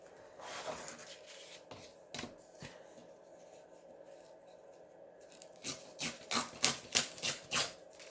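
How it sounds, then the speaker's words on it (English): Paper torn in a series of short, crisp rips along a ruler's edge while making a collage, with quiet scattered handling before and a louder run of repeated tears toward the end. "let me use my ruler on this part so I can get a straight tear here"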